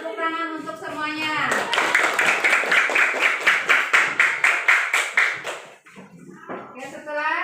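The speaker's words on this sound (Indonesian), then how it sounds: "Tepuk tangan untuk semuanya." A group bursts into rhythmic clapping, a dozen or so sharp claps in a steady beat, with voices before and after.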